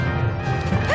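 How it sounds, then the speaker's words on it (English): A dog barks outside, a single brief bark heard against a low indoor hum. "the doggy outside won't stop barking"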